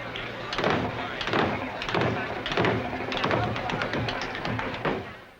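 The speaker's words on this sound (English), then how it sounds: "that's the beginning of the cramp roll" Rapid tap dance cramp roll, crisp toe and heel strikes rolling in quick clustered bursts against a hard floor, steady and fairly close.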